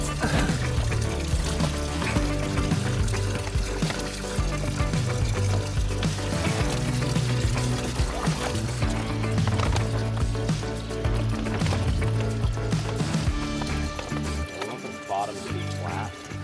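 Water pours and splashes steadily into a canoe water feature in a mountain garden for a long stretch, with people talking over it, the flow noise fairly close and even throughout.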